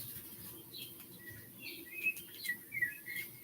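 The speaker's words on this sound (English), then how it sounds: "Come on, we just want to hear birds." Small birds chirping faintly in a quiet outdoor setting, a few short high tweets rising over a low steady background hum, with no talking.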